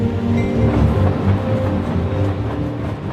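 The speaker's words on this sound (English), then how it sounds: "The high-speed train makes its final stop on its journey to Paddington at Reading" High-speed passenger train on its way to London Paddington, a steady rumbling roll with faint rhythmic clatter of wheels on track, heard continuously from close by.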